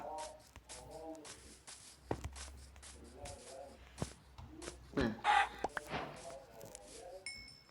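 A chicken clucks and crows in a modded video game, sounding in several short bursts amid game effects and other noises.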